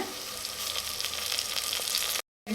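Steady, close sizzling of soaked dried peas frying with ginger-garlic paste and mint for a tomato bath, with a brief stir-like break near the end.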